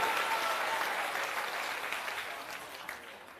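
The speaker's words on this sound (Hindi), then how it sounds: "जोरदार से स्वागत करिए, जोरदार तालियों से" A crowd at a Jan Suraaj political rally in Bihar, held with Prashant Kishor, applauds a speaker being welcomed to the stage. The dense clapping starts strong and slowly fades.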